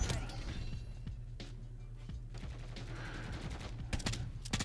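Modern Warfare 3 gunfire from a JAK Shadow Titan kit in an airport terminal map, rapid automatic bursts layered over a dense game soundscape with mechanical clatter, steady and fairly loud throughout.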